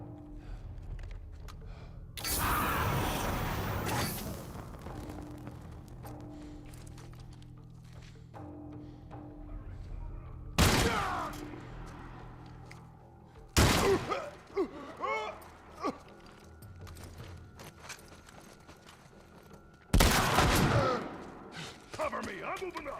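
Gunfire in the game The Last of Us Part 1, arriving as a few separate loud bursts spread across the stretch, with quieter movement and a voice speaking between them.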